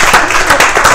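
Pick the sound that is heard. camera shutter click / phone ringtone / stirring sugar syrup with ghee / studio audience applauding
studio audience applauding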